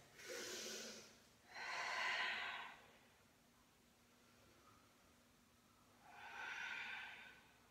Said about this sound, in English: 4 deep breaths.